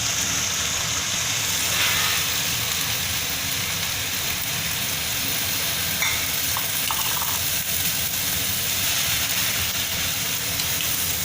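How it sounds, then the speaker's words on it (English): Moringa leaves sizzle and crackle as they are stirred into cooked onion in a hot frying pan, a steady dense frying hiss throughout with occasional stirring scrapes and no talk. "Now let me add the moringa leaves."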